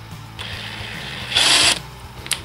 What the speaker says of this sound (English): I'm gonna use this rattle gun on the slowest setting, and I'm gonna align the thread